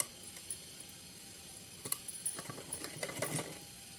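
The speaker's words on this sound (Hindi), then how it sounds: "उल्टी साइड रख के इस पर सिलाई लगानी है।" A sewing machine quietly stitches a waistband on the reverse side of a small Kanha ji outfit, with faint, light ticking and a soft mechanical hum.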